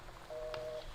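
A single short telephone keypad tone in the game Gone Home, a brief steady beep over quiet room ambience.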